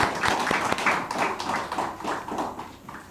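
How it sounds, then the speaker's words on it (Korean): A church congregation claps in steady applause for the choir after worship singing, a dense patter of many hands heard up close and filling the room. "우리 박수로 한번 격려해 드리겠습니다."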